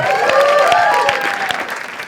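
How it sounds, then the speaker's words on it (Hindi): A studio audience at an Indian comedy talent show breaks into loud, sustained applause with scattered cheers, a dense wash of clapping that holds steady for about two seconds before easing slightly. "एक बार जोरदार ताली for Apurva also."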